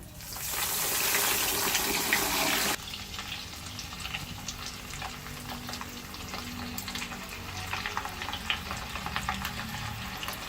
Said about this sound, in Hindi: बिल्कुल स्लो हीट पे गरम आपने इसको फ्राई करना है।